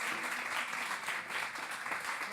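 Audience applause for children's book authors at a youth book prize ceremony in Saint-Maur, a soft, even wash of many hands clapping heard from a distance for a couple of seconds.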